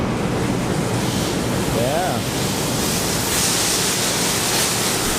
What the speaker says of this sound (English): here's our DI tap water rinse we were talking about.